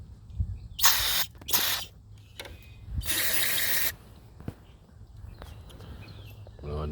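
Several short hissing bursts of cleaner sprayed into a Kawasaki ZZR1200 motorcycle fuel pump, some brief and one lasting about a second, with quiet handling noises in between.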